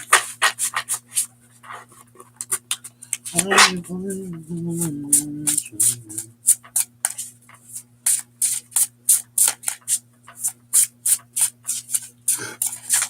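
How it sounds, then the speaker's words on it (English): A deck of occult tarot cards being shuffled close up gives crisp, rapid snaps and papery rustles in irregular bursts, broken midway by a short hummed vocal sound. "we'll shuffle up the occult tarot"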